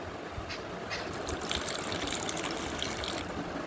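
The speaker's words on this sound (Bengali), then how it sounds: "এবার এখানে দেব সাদা তেল আর দেব জল" Oil and water poured into a mixing bowl while making luchi dough, a steady close trickle and splash of liquid lasting several seconds, with no voices.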